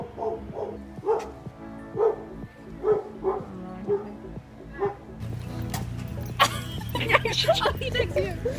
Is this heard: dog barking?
yes